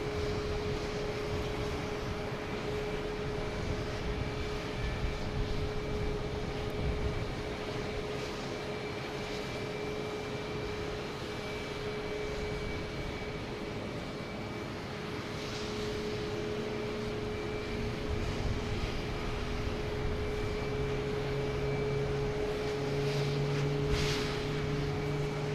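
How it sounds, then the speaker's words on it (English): Aer Lingus Airbus A330-300 from Dublin arriving at Boston Logan, a steady broadband jet roar with a sustained tonal whine, continuous and fairly distant, with no talk. "next to arrive is Aer Lingus coming in from Dublin at A330"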